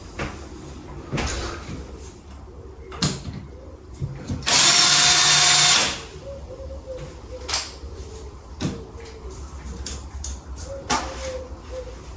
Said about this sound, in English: I'm now going to be very careful drilling into this one, making sure I pierce the plaster first